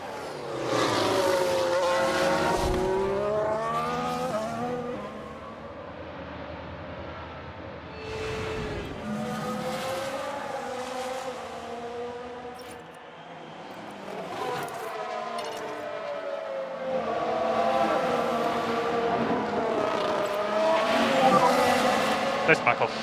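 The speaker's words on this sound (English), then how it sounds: "We've just had a crash on the track. Here's the replay." Race cars in the F1 Manager 22 video game roar and whine past with tire squeal and skidding during a crash replay, a continuous loud engine drone rising and falling, with talk over it.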